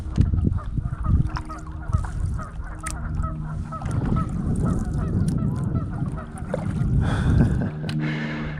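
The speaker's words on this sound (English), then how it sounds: "Those geese are definitely not happy about something." Geese honk repeatedly and loudly over a steady background of rushing water at a reservoir cove in early spring, with harsh overlapping calls continuing throughout.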